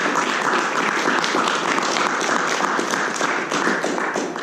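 Members of a university Toastmasters club clap together at a meeting, a dense, even burst of applause that holds steady for a few seconds without pause.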